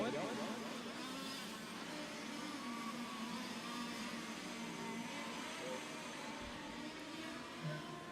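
Several 1/5 scale on-road RC race cars lapping a track during a world championship qualifying session, their small engines making a continuous, high-pitched whine at a moderate distance that holds steady throughout.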